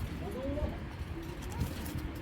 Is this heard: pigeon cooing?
yes